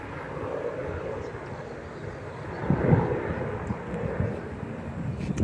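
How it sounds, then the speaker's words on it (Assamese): A helicopter passes over farm fields in a village, heard as a steady low rumble that swells briefly near the middle and stays fairly distant under wind noise. "সেইখন হেলিকপ্টাৰ গৈ আছে চাওক"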